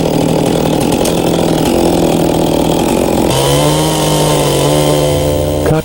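A chainsaw cuts a notch into a tree, its loud, close engine buzzing steadily, then shifting pitch partway through as the load eases, before cutting off at the end.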